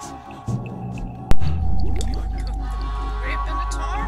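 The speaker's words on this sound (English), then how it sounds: "The tar pit was bubbling invitingly." A tar pit bubbles in the point-and-click adventure game Edna & Harvey: Harvey's New Eyes, with thick gloopy pops and a sharp splat over a low droning musical background.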